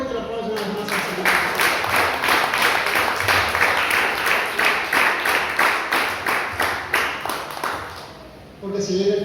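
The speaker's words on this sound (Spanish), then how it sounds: "Denle fuerte el aplauso una vez más al Señor" A congregation in a church service gives the Lord a loud round of applause, rhythmic and nearly in unison, like steady beats. It stops abruptly and a voice follows.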